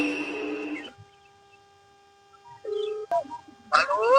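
Phone dialing tones beep in short sustained steps, a couple of distinct pitched tones separated by pauses, close and clear, with a voice briefly before and after.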